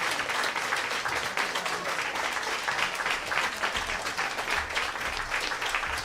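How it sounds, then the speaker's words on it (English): Continuous audience clapping after a piano performance at a park-hosted piano hour, dense and steady from a seated crowd, sustained throughout without talk. "They can't stop clapping."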